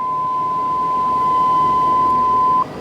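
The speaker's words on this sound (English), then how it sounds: "Turn the door buzzer off." Door-open warning buzzer in a 1998 Chevy OBS pickup truck sounds as one steady, unbroken electronic tone for about two and a half seconds, then cuts off abruptly. No one speaks.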